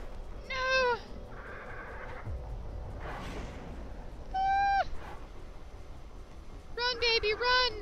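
A bird of prey in the video game Shelter gives three bursts of sharp, descending, whistling screeches, some of them rapidly repeated, clear and close over a quiet rustling background.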